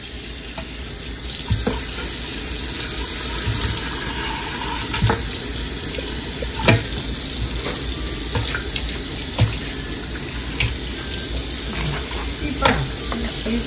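Tap water runs steadily into a sink while chicken feet and beef feet are washed by hand, with intermittent splashes and clinks over the constant stream.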